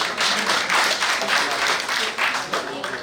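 Audience clapping at an all-India Unani medicine meeting, a moderately quiet burst of hands with a slightly uneven, pulsing rhythm heard from some distance in a hall.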